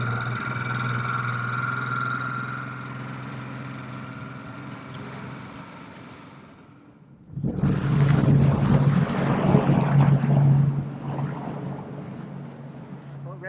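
A small boat motor starts up loudly after a quieter stretch of steady engine hum and wind, churning close by during a cold saltwater winter rescue of a crashed RC plane.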